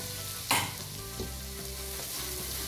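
Cabbage and carrot frying in a pan with bacon, a steady close sizzle with a louder burst as vegetables hit the hot fat and occasional stirring scrapes.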